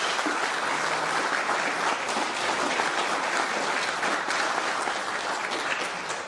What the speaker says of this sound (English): Round of applause for all recipients.